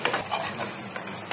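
Cumin and coriander paste sizzles in a hot pan with a soft crackling hiss, punctuated by a few quick stirring scrapes over a brief moment.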